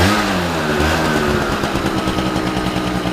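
A 2011 Yamaha BW's 50cc scooter engine runs steadily, a loud, close, buzzing two-stroke drone with a slightly rising pitch and fluttering pulse throughout, no talk.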